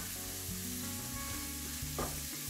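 Tomato paste sizzles and fries in a pan with prawns, giving a steady, close crackle with faint stirring scrapes over a low background hum.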